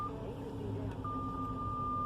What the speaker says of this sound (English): See how that's beeping when it's picking her up walking around the car?